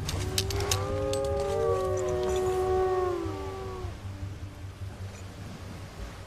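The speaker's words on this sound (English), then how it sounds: "You just hear a wolf howl. Did you hear that?" A wolf in the wilderness lets out a long, rising and wavering howl, with several overlapping tones, that carries over a steady outdoor rumble for about three seconds before it fades.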